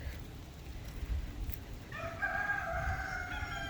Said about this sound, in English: These stay in that barn because there's too many roosters